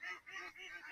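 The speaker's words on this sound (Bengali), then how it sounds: "এগুলো কি কি জাতের হাঁস? আচ্ছা, খাকি আম্বল জাতের হাঁস।" Khaki Campbell ducks on a commercial egg farm give a few quick nasal quacks in a short burst, faint and somewhat distant.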